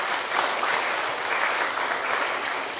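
Steady audience applause at a formal speech event, dense clapping held at an even level throughout, with no voices over it.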